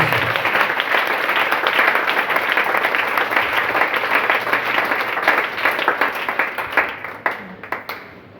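A church congregation applauds loudly and steadily, a dense wash of clapping from many hands that thins out and trails off toward the end.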